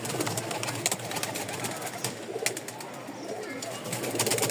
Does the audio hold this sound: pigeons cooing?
yes